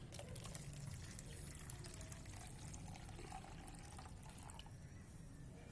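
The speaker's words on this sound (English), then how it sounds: "Just place one chalk stick in the container and add a glass of water." A glass of water is poured into a container holding a stick of gypsum chalk, giving a faint, continuous splashing and trickling that lasts for several seconds without a break.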